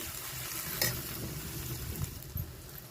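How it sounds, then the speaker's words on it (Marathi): Onion sautéing in a pan with coconut, garlic and ginger, a steady close sizzle with a few stirring scrapes and clinks of a spoon against the pan. "तोपर्यंत कांदा पण परततोय"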